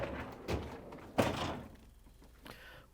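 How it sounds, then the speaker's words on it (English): Refrigerator freezer door on an LG/Kenmore unit pulled open indoors: a soft thunk, then a louder seal-release thud about a second later, with faint bumps trailing off, fairly quiet and close. "In order to change the part, we have to open up the freezer door."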